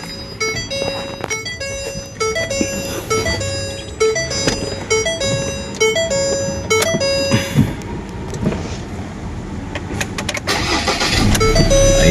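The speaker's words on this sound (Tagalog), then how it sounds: "Start po natin yung engine." A second-hand pickup truck's engine starts with one click and turns over into a rough, building mid-pitched rumble, heard close alongside jingly background music.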